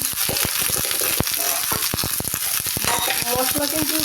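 Vegetables with turmeric fry in a pan without added oil, a steady loud sizzle broken by sharp clacks and scrapes of a utensil stirring against the metal.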